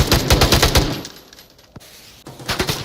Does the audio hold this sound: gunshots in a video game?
yes